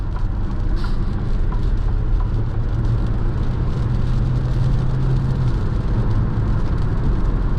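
Steady, loud cabin road and engine drone inside a 2024 Alfa Romeo Tonale Veloce cruising at highway speed, with continuous low rumble and tyre roar and no talking.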